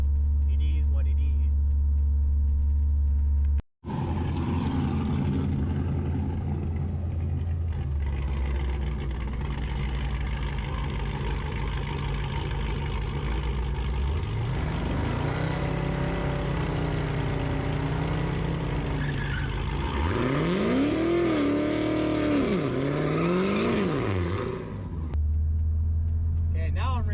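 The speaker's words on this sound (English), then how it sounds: "Okay, now I'm racing Ramsay." Race car engine at a drag racing test and tune, a loud continuous rumble that revs and rises in pitch in the second half, with people talking over it.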